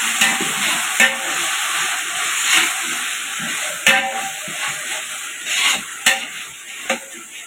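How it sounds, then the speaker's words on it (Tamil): Tomatoes with ginger garlic paste sauté in a hot pan for mutton biryani, giving a constant loud sizzle broken by several sharp scraping stirs and clinks of a spoon against the pan. "தக்காளி வதக்காச்சு. இஞ்சி பூண்டு பேஸ்ட்டு சேர்த்துக்கலாம். ரெண்டு நிமிஷம் வதக்கட்டும்."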